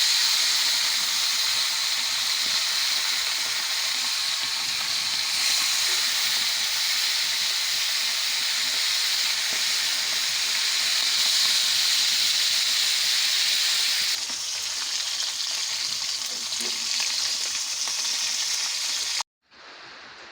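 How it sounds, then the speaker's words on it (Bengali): Tilapia fish frying in hot oil in a pan, a loud, steady sizzle and hiss that holds almost unbroken for about nineteen seconds, then cuts off abruptly. "তেল গরম হয়ে গেছে, মাছটা ছেড়ে দিলাম।"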